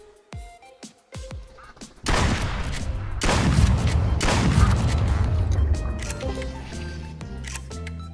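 A volley of rapid gunshots aimed at ducks in a video game, several sharp reports first, then a dense loud burst of firing lasting a few seconds before fading into scattered quieter sounds.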